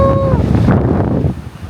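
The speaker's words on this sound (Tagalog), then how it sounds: "Ganyan po kalakas ang hangin." Strong wind at a campsite in the mountains of Quezon, Philippines, buffets the microphone in loud, roaring gusts, briefly joined by a short tone at the start, then easing slightly near the end.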